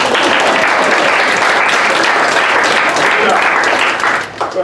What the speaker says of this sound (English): so let's practice applauding